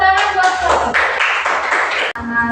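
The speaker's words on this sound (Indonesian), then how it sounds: "Iya, tepuk tangan buat" Children clap their hands together at a school gathering, a bright, quick run of claps that comes up close, holds for about two seconds, and then stops sharply, with some voices mixed in.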